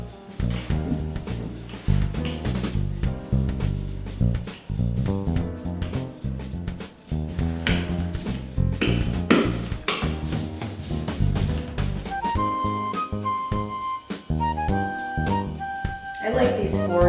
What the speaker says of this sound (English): So you want to keep your roller up on those higher surfaces.